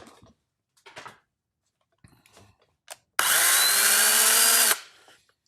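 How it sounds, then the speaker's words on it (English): A battery-powered mini chainsaw whirs steadily for about a second and a half, loud and close, between scattered clicks and handling noises before and after. "How loud is the mini chainsaw?"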